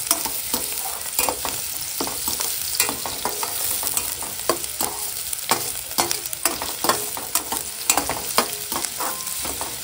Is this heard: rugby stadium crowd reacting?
no